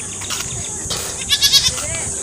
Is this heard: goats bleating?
yes